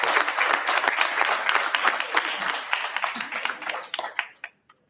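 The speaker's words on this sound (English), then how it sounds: "Let's give these gentlemen a round of applause." A room at a county school board meeting claps for relay state champions, a loud, dense burst of applause that thins into a few scattered claps and stops before the end.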